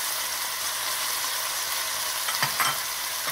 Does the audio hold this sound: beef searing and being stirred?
yes